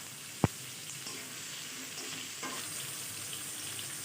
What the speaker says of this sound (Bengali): টমেটোটা ফোড়নের সাথে দু মিনিট ভেজে নেবে